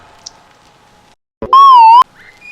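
A single loud, clear whistled note holds for about half a second with a slight wavering pitch, following a quiet stretch with faint background tones.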